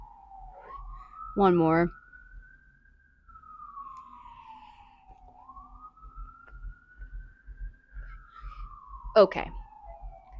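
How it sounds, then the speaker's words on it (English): Emergency vehicle sirens wailing outside, a slow rising and falling tone that carries on throughout at moderate distance, while a person speaks briefly in two short bursts nearby. "So, God, the sirens. I'm so sorry if you can hear that."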